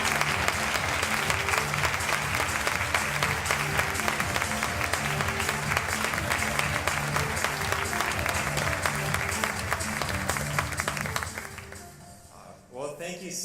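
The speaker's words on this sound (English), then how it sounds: "Please give a warm, generous applause to the Surgeon General of the United States," A health-policy conference audience gives sustained, even applause as the Surgeon General of the United States arrives on stage; the clapping fades near the end and a voice begins speaking.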